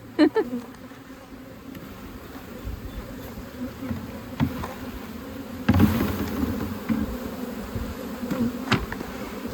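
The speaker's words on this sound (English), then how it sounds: "it's okay that some of the bees are flying out" Honey bees from a queenless hive hum and buzz continuously in a dense swarm close by, with scattered clicks and knocks of a screwdriver against the hive woodwork.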